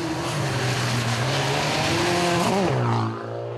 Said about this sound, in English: One car that could be heard reverberating across the valleys was the S2000 Polo of Lola and Megan Verlaque.